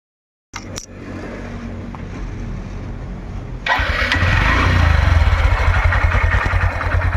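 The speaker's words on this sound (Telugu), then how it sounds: "ఇక ఇంజన్ కూడా స్టార్ట్ చేసి పెడతాను" A 2018 Honda Livo motorcycle engine starts after a brief click and whir, then settles into a steady, close idle that grows slightly louder.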